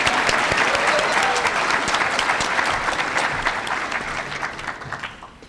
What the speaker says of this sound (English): Can we get a round of applause for this French pronunciation?